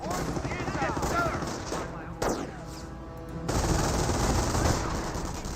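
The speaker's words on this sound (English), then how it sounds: "great suppression coming out by the MG42" MG42 machine gun in Company of Heroes firing sustained suppressive bursts, rapid rattling gunfire that breaks off briefly and resumes, loud and near, with other battle noise mixed in.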